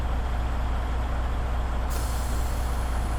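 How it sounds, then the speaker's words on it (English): A truck's trailer parking brakes release with a sudden, loud, steady hiss of air partway through, over the low rumble of the idling rig. "First, I would like to test my parking brakes by releasing my trailer"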